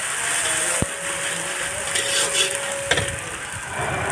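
Spices sizzle and fry in a kadai for chilli paneer, a steady crackling hiss close by, broken by a couple of sharp clinks of a utensil against the pan and soft stirring scrapes.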